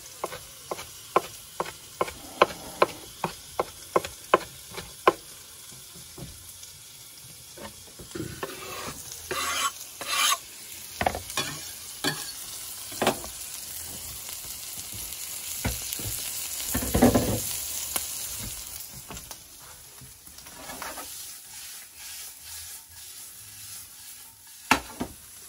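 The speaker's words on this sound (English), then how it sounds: "I'll put some peppers in with it." Jalapeno peppers sizzling in a hot pan for brisket tacos, a steady frying hiss with repeated sharp scrapes and clanks of stirring, close and loud, with no talk.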